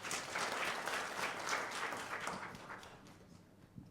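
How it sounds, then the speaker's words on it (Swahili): An audience at a keynote on investing in Kenya breaks into applause, a soft, distant round of clapping that swells briefly and then tapers off toward the end. "Makofi tafadhali."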